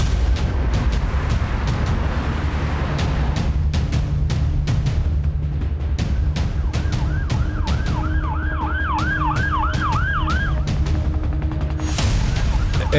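An ambulance siren wails in a rising and falling pattern over loud, busy road traffic and scattered sharp bangs. It comes in clearly midway, keeps cycling for a few seconds, then drops away.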